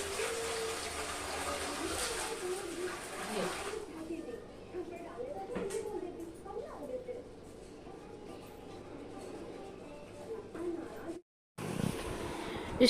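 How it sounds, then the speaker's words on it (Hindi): Water pours into a container holding alum in a home kitchen, a steady broad splashing rush for a few seconds that then quiets, while someone talks over it and birds coo in the background. "इसके बाद डाल दिए इसमें पानी।"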